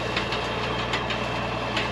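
Vintage farm tractor engine idling in a hayfield, a steady close low rumble with a faint regular knock, continuous and alone without voices.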